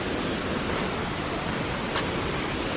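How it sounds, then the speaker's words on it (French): Water rushing down a waterfall and river in the Indonesian jungle near Magelang, a broad, steady roar of flowing water, continuous and fairly close, with no voices. "J'entends le bruit de l'eau qui coule."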